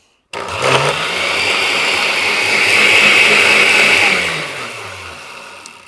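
A blender on its low chop setting whirs loudly and steadily for about four seconds, then spins down and fades. No voices are heard.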